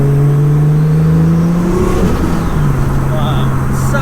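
A 700 bhp Nissan Skyline R33 engine revs while driving, a loud close drone rising in pitch then dropping as the car shifts, heard from inside the cabin.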